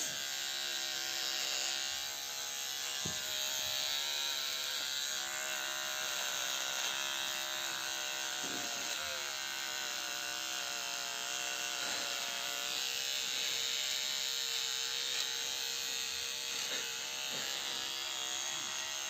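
Electric hair clippers cutting hair indoors at home, in the middle of a room, give a continuous close buzzing hum with a steady tone and faint clicks and scrapes as the blades pass through hair, with no speech.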